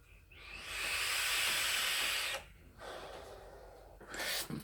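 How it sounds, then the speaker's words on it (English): A long, airy inhale draws on an Aequitas RDA vape for about two seconds, then a softer hissing exhale follows after a short pause, ending with another brief breathy puff, all close to the microphone. "Let me have a vape."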